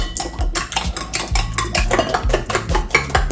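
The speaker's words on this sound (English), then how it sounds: "I'm going to beat up my egg and I will just add it to it." A raw egg is beaten in a bowl with a utensil while making a healthy loaf bread. It gives steady, rapid clinking and scraping against the bowl, close and fairly loud, with no talking.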